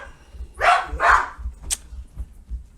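Two loud dog barks close by, followed by a fainter short yip, set over a low rumbling background with no talking; the sound comes from household dogs, one older and one a younger herding dog.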